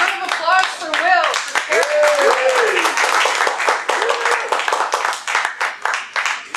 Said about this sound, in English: Round of applause for Will.